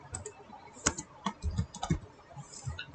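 Fingers type a short word on a computer keyboard, a handful of crisp, close key clicks in an uneven quick burst against a quiet background.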